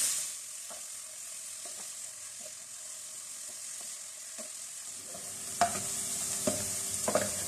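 Two medium onions fry in a pan toward golden brown for beef mince keema, with a steady soft sizzle and occasional stirring scrapes and clinks near the end, no voices.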